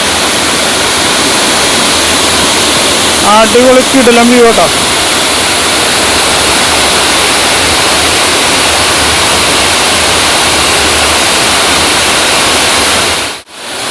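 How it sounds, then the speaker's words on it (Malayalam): Water spilling from a dam cascades like a small waterfall at Kachithodu Dam, a loud, steady broadband rush filling the whole stretch, with a person briefly speaking over it. "ശരിക്കൊരു ചെറിയ വെള്ളച്ചാട്ടം തന്നെ വേണമെങ്കിൽ പറയാം."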